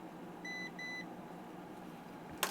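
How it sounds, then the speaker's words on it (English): Two short electronic beeps from a Lightkeeper Pro voltage detector, close and clear over a low background hum, followed by a brief click near the end. "that's how you use the Lightkeeper Pro or these little standalone voltage"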